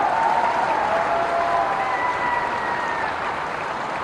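Crowd at a political rally applauding, a continuous, loud wash of many hands clapping that slowly eases, with a faint whistle-like tone running through it.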